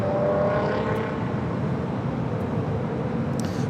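A Delta Air Lines Boeing 737-900ER inbound from Seattle arrives on the north side of Los Angeles International Airport, its engines a continuous, moderately distant rumble that stays fairly even, slightly stronger at the start.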